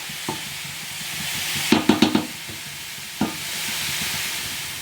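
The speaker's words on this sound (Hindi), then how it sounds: "तो गाजर को मैंने 5 मिनट तक भूना है, गैस का फ्लेम हाई करके।" Grated carrots for gajar ka halwa fry on high heat in a pan. A spoon scrapes through them in a few close, quick stirring strokes over a soft, constant sizzle, and no one speaks.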